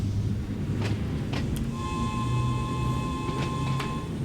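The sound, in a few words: train whistle in Train Sim World 2 video game, Island Line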